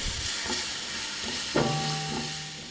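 Ginger garlic paste sautéing in a pan for chicken biryani, a steady hissing sizzle with a few faint stirring scrapes and a brief metallic clink partway through.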